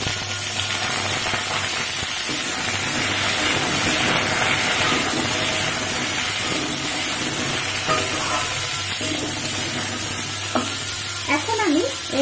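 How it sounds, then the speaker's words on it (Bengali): Chopped hog plum hits hot tempering oil and sizzles loudly and steadily, with stirring scrapes in the pan and a brief voice near the end. "এখন আমি এখানে যে আগে থেকে কেটে রেখেছিলাম আমড়াটা, সেই আমড়াটা আমি এর মধ্যে দিয়ে দিলাম।"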